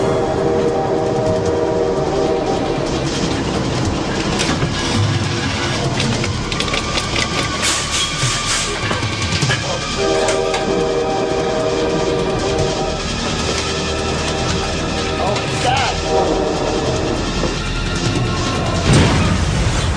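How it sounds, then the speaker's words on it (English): Train rushing along railroad tracks, a loud continuous rumble and clatter with steady broadband roar and tonal whistle-like streaks throughout, close and sustained with no talk. "a train came roaring down the track at just that moment"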